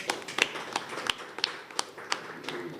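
Sparse audience applause at an award show, a handful of separate claps spaced irregularly over a few seconds, fairly quiet and close.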